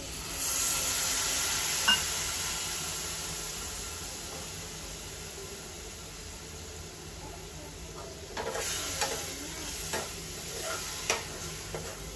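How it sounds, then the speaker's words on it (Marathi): Spiced masala paste for a dry masoor dal dish sizzles steadily in a hot pan, with occasional scraping and clinks of a spoon as it is stirred. "मसाले आपले मस्त परतून झाले."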